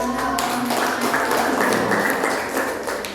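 A classroom of students claps together, a loud burst of scattered hand claps that thins out and fades toward the end, with faint voices mixed in.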